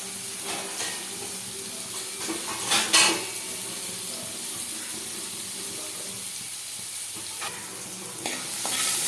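Onions fry in hot oil with a continuous loud sizzle and occasional stirring clatter, nearby and without speech.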